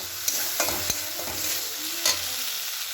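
Pointed gourd (potol) sizzles in hot oil in a pan, with a steady frying hiss broken by several sharp scrapes and taps of a spatula stirring it; no one speaks.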